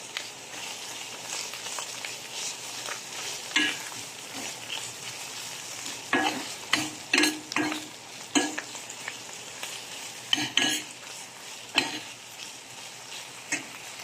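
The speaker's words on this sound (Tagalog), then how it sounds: "Tapos, haluin natin." Sweetened bagoong shrimp paste fries in a pan with a bright crackling sizzle, punctuated by repeated scraping stirs that come in clusters and grow louder toward the end.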